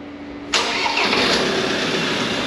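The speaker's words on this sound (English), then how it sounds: "turn the key of the ignition" A vehicle engine cranks and fires as the ignition key is turned on a South American road trip. A sudden loud catch half a second in settles into a steady, close, even idle.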